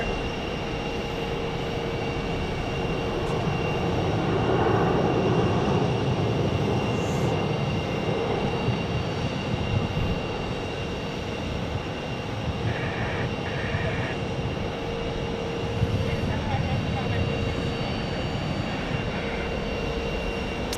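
An airliner touches down smoothly at Phoenix airport, its engine rumble and rushing roar rising and ebbing over the span at moderate distance, with faint higher whines from other aircraft passing through.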